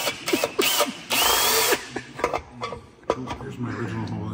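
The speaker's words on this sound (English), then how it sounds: "now I'm gonna have to drill holes everywhere" A power drill bores holes into a 2024 Polaris 900R XRS snowmobile muffler, a sustained whine running about half a second amid shorter bursts and clanks, with people talking nearby.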